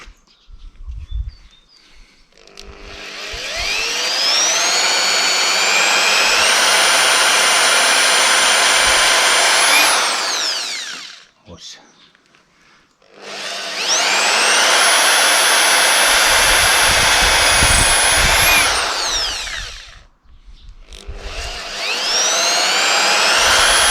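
An electric drill boring into wood for homemade dowel pegs for a chair, running in three long loud whining bursts that rise in pitch and stop abruptly, with short pauses between them.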